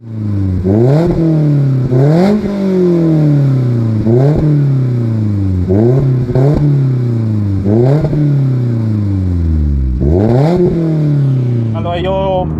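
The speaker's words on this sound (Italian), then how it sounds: "come abbiamo detto il motore abbiamo tutto dietro, e come si può già sentire dal sound abbiamo uno scarico abbastanza" A Lotus Elise 240 Sport Final Edition with its rear-mounted engine and a BB Racing exhaust revs loud and close in a series of repeated throttle blips, each rising sharply and then falling away. Its sound is a rasping, sonorous roar.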